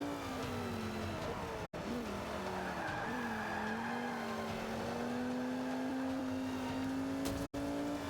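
A race car slides and skids in a racing video game, lacking torque to pull out, with a steady engine drone and a sustained tire squeal running loud and continuous for several seconds, briefly cut twice.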